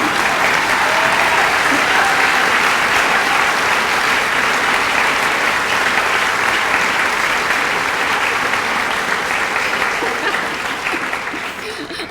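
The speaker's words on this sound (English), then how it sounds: "go ahead and applaud" Sustained, loud audience applause at a grassroots gathering, with dense clapping filling the room throughout and only easing slightly in the final second.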